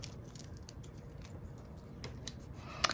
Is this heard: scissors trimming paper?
yes